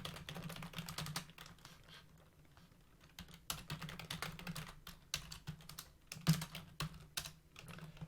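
Notes tapped out on a computer keyboard, quiet clicking keystrokes in irregular bursts and pauses, with a few louder thumps, over a low steady room hum.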